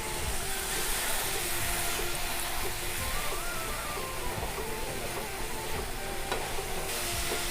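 Water hits frying spice paste in a kadai over high heat, producing a loud, continuous hiss and bubbling sizzle that holds steady throughout with no talking.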